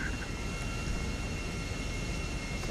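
A plane's engine in the video game GTA drones steadily and loudly throughout, an even, unbroken roar with no voices over it.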